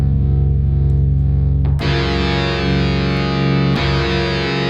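An Eventide effects unit adds an octave-down pitch shift to a loud, sustained distorted tone, thick and buzzing, with two sharp attacks marking new notes partway through.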